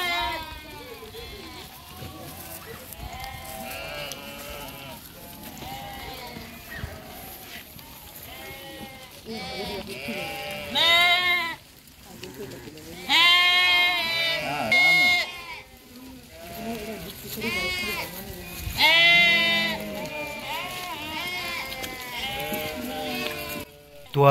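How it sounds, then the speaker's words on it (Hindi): A flock of sheep and goats bleating, with many overlapping calls near and far that swell and fade in repeated waves, and some people talking among them. "तो आपने देखा ही होगा कि कितनी सारी भेड़ बकरियां हैं"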